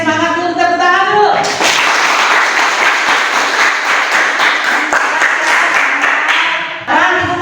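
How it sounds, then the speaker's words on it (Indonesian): A classroom of young pupils clapping hands together in unison, a loud, dense burst of applause lasting several seconds, preceded by a teacher's voice and ending as she begins speaking again. "tepuk tangan dulu."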